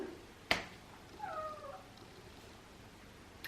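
A house cat wanting to go outside early in the morning: a sharp knock, then a single clear, drawn-out meow, close and fairly quiet in an otherwise still room.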